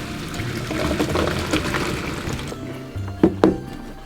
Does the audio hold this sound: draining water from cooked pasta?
yes